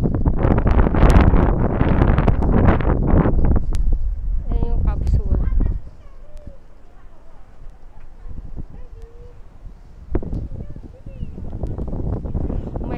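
Strong gusts buffet the microphone on the OCBC Skyway, an elevated walkway at Gardens by the Bay in Singapore. Heavy roaring wind dominates the first half, then eases to a lower rumble before rising again, with people talking now and then.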